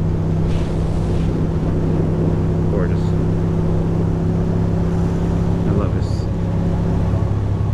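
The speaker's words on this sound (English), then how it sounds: "This is why I ride a motorcycle." A steady, droning motorcycle engine hum while riding along the Upper Delaware River in Pennsylvania, with rushing wind buffeting the microphone, loud and continuous throughout.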